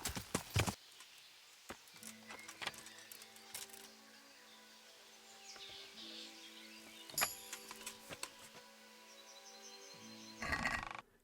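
Horse hooves clip-clop at an unhurried pace in a video game, under a low droning hum, with occasional sharper knocks and clatters standing out.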